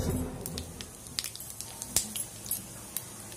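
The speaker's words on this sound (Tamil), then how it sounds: "கடுகு பொரிஞ்சி வந்துட்டு" Mustard seeds splutter and pop in hot oil while making a country-chicken curry, sharp irregular crackles and sizzles bursting close up over a steady frying hiss.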